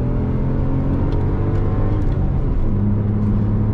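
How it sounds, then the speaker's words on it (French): A BMW Z3 2.2 roadster's six-cylinder engine revs with a strong, steady rumble and rising whir, loud and close, with no talk over it. "Il a le 6 cylindres, écoutez-moi ça là."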